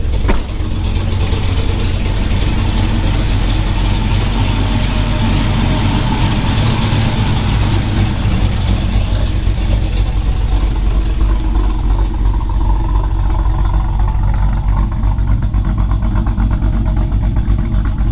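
A 1500hp modified Dodge Challenger SRT Hellcat runs close by, its deep, loud, steady idle rumbling with uneven lope and a few rising revs throughout.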